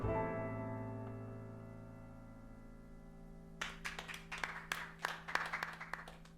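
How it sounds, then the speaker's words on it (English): Light, scattered applause breaks out in the video game Deadly Premonition. The quiet clapping starts partway through over a low, steady game hum. "Smattering of light applause there."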